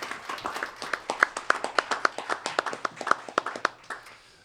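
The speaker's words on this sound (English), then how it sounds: "give a round of applause to our panelists" A small audience at a science writers conference claps for panelists, with distinct, sharp individual hand claps rising and falling unevenly, close and fairly loud, with no voices.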